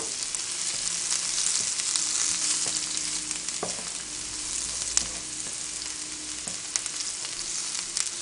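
Garlic sizzles in hot cooking oil in a pan as beef liver is being prepared, a loud, even hiss with a few faint clicks, and no voices.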